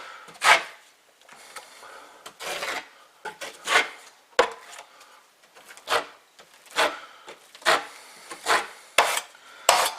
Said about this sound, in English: So now we're going to put our first coat on. We're just going to fill it in,